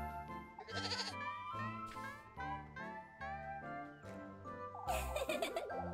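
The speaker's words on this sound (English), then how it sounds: "We're not taking a goat to town, Rosemarine." A goat bleats repeatedly in the video game Little Goody Two Shoes, its wavering cries loud and close, set over rhythmic game music with brief gaps between calls.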